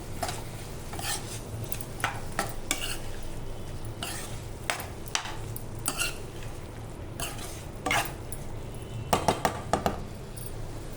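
A spoon stirs chopped capsicum into curry in a pan, giving repeated scraping and clinking strokes against the metal over a steady low kitchen hum, with a brisk cluster of clinks near the end.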